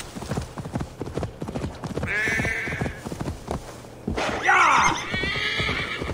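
Horse in Assassin's Creed Valhalla whinnies loudly twice over steady, rhythmic hoofbeats of clip-clop, with the two neighs standing out clearly above the galloping.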